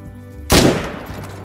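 A single loud rifle shot from theHunter: Call of the Wild cracks sharply against a quiet savanna backdrop, then a short echoing tail trails off.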